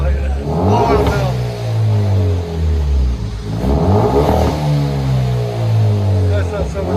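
A 2016 Hyundai Veloster Turbo fitted with a dual exhaust and Vibrant bottle resonator revs twice, its engine note climbing and falling in two clear swells over a steady idle, loud and close.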